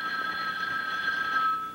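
A telephone bell on an old 1958 television sitcom rings with a steady, sustained tone, moderately loud and alone with no talk.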